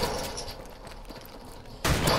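Shotgun blast in a video game: one loud, broadband burst near the end after a stretch of busy in-game background noise.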